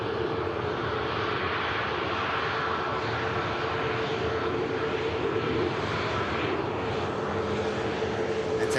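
Ryanair Boeing 737 MAX 8-200 jet taxiing past at Manchester Airport, a steady broadband engine roar with a faint tonal whine held at even loudness for the whole stretch, close and continuous with no talk.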